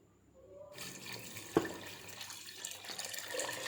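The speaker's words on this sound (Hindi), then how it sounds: "और अब इसमें हम डालेंगे 2 लीटर पानी।" Two litres of water pour into a cooking pot holding salt, black pepper and red chilli powder for tamarind and apricot chutney, a soft, close splashing flow that starts abruptly and continues steadily, with one sharp clink near the start.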